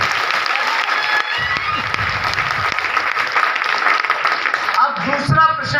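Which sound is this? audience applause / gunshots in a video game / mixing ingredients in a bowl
audience applause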